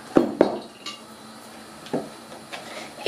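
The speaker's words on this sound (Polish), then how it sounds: "I to musimy porządnie wymieszać." A spoon stirring a pudding mixture in a pot, with a few sharp clinks of metal against the pot's side scattered irregularly through a quiet kitchen, close and fairly loud.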